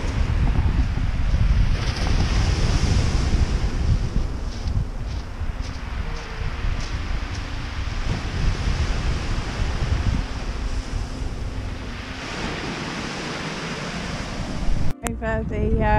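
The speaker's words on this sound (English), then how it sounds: "of the sea and the pebbles is incredible" Sea waves wash steadily over a pebble beach on the South West Coast Path near Seaton, giving a continuous loud roar and hiss with wind buffeting the microphone throughout.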